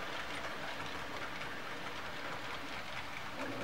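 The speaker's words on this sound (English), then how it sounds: "Check out this train that's coming around here." An HO-scale model train rumbles steadily along its track, a continuous close whir with a faint rhythmic clatter and no voices.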